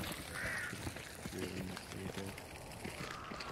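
Crows caw in the Hunt: Showdown video game, faint calls over the game's ambient noise while a player talks.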